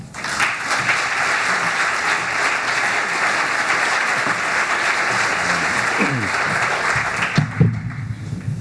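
Sustained applause from an audience at a Santa Barbara school district event welcoming the superintendent, dense and steady clapping that fills the whole stretch before tapering near the end.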